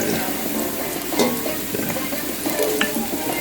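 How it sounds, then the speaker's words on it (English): Green onions (scallion) stirred into a Jamaican chicken curry, a steady close sizzle of frying with scraping stir strokes throughout, no talk. "I will put in some green onions or scallion into the mix"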